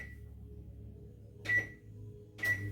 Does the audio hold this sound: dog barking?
no